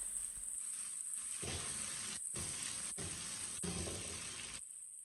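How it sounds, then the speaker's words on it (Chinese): Steamed green beans and pork belly stir-fried over high heat in a wok give a steady hissing sizzle, with a few brief gaps and scraping stir movements, and the sizzle eases near the end. "开大火快速的翻炒均匀，把豆角表面的水分炒干"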